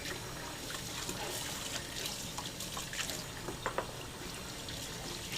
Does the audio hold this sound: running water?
yes